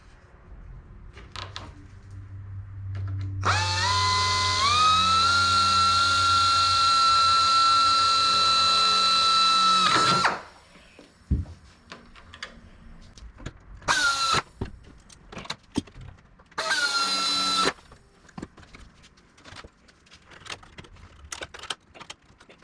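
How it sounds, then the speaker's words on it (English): A drill runs for a sustained spell as it match drills tabs to the skins and baggage ribs of a Van's RV-7A airplane build, then gives two shorter bursts, with small handling clicks and taps in between. "match drill the attached tabs that we made to the skins and the baggage ribs"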